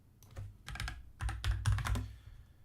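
Typing on a computer keyboard while renaming files, with quick irregular clusters of clicky keystrokes that grow denser and louder toward the middle, close to the microphone and heard alone.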